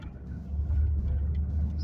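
Steady low rumble of a Ford Focus heard from inside the cabin while driving, with road and engine noise swelling slightly and holding even.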